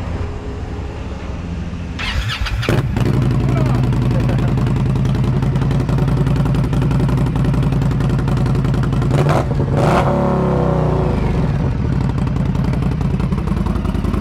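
An Indian Scout Bobber motorcycle engine cranks over and catches, then settles into a loud, close, throbbing idle with a sharp throttle blip and rev partway through, while voices can be heard.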